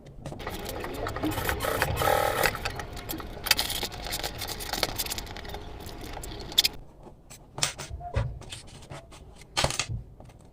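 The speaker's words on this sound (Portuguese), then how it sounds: "A linha aqui e passa uma costurinha" A sewing machine runs a stitch through red lining fabric on a small cube-shaped cosmetic bag, whirring steadily for several seconds before giving way to a few sharp clicks and handling taps.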